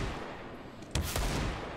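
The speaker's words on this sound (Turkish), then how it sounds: "Lekro'yu vurdu Kalix" A gunshot in a Counter-Strike match: a sharp crack just before the midpoint, then a second report shortly after, over a low game background.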